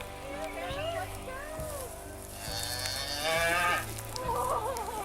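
A cow freed from confinement moos several times, loud and close, with a rhythmic mechanical thumping and voices running beneath.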